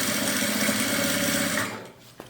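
A sewing machine runs steadily, stitching lining fabric onto the outside of a pocket for a Bible or book holder, then stops after about a second and a half, leaving near silence.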